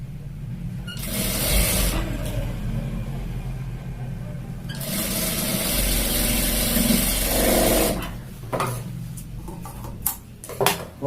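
Sewing machine stitching a pant fly seam, running in two long loud bursts of rapid buzzing whir separated by a pause, then stopping into softer handling clicks and rustling.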